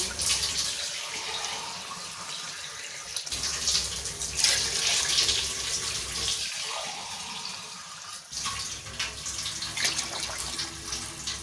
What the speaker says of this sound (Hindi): अब इस स्टेज पे आके हम इसके अंदर पानी ऐड करेंगे चावलों के हिसाब से